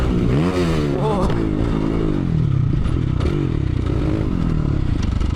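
A Chinese dirt bike engine run without baffles revs hard through a loud, open exhaust, its pitch rising and falling with throttle, popping and crackling continuously up close, with a voice faintly under it.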